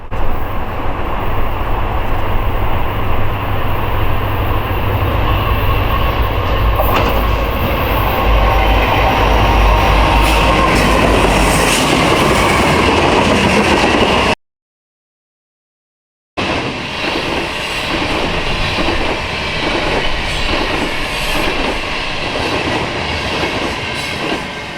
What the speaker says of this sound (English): We got back in time to catch this Norfolk Southern sand train with an ace leading and a C6M trailing